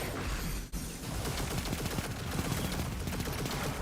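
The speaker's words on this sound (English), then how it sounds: "Stop firing at me." Dense, sustained gunfire from the first-person shooter Destiny 2 in Gambit mode, loud rapid automatic bursts overlapping throughout with a brief dip near the start.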